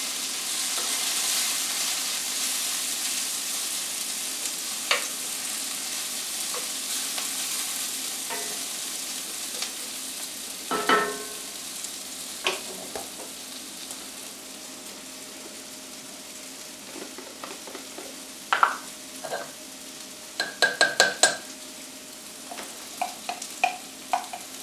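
A steak fries in a pan with a steady, moderate sizzle, with occasional crackles and pops that grow more frequent toward the end.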